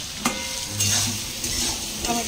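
Potato and tomato curry sizzles and fries in a pan, with the clatter of stirring breaking in now and then over a steady frying hiss.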